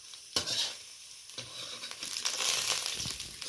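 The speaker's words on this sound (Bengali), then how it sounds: "শুকনো লঙ্কাটা রসুনটা হালকা করে ভেজে নিয়েছি" Dried red chilies and garlic frying in a little oil in a wok, a close crackling sizzle with scraping stir strokes throughout.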